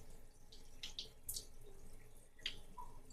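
Hands are scrubbed under a running tap at a sink, with faint water trickling and a few brief splashes and drips, close and soft, without talking.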